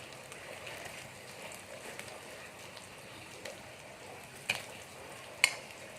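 An egg fries in a pan while being pressed down flat, giving a faint, steady sizzle broken by a couple of sharp clicks near the end.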